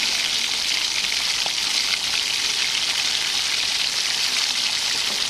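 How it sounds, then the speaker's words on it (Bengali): Marinated soybean pieces fry in a kadai, giving a loud, dense, steady sizzle of hot oil that runs without a break from start to finish, with no voices over it. "এবার ম্যারিনেট করা সয়াবিনগুলি দিয়ে দেব কড়াতে।"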